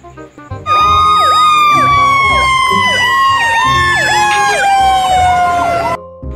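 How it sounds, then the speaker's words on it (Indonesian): A fire truck siren wails loudly and close, its rising and falling tone cycling steadily for several seconds before cutting off, with no talking over it. "Lihat teman-teman, ada truk pemadam kebakaran."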